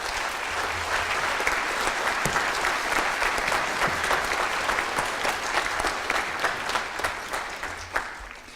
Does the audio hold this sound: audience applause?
yes